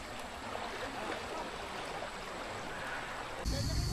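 A river flowing at a campsite in Tanay, where two rivers meet, gives a steady, close rushing wash of water. It holds even throughout and grows slightly louder and fuller near the end.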